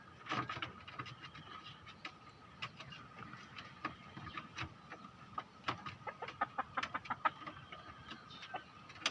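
A decoy rooster kept by a Thai enthusiast of fighting-style fowl makes soft, faint clucks and ticking pecks in an irregular rhythm, quiet and scattered throughout without talk.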